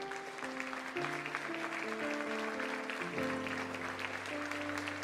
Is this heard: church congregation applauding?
yes